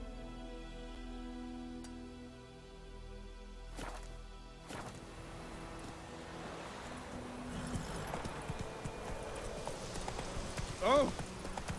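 Roach the horse trots along in The Witcher 3, light hoof clip-clops sounding under game music and ambient noise, with a voice speaking briefly.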